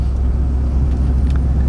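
A custom 1967 Oldsmobile Toronado driving, its low steady engine rumble and road noise heard from inside the car, with no talk.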